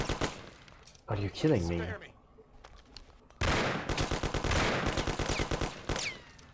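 Gunfire from Mafia 1 during a police chase: a short burst of shots early on, then a dense rapid volley of loud cracks, with someone talking in between.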